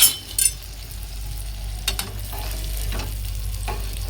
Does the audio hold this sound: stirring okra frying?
yes